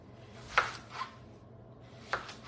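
Knife chopping vegetables into thick pieces for the grill, with three or so separate sharp cuts on a board, fairly close with quiet room noise between strikes.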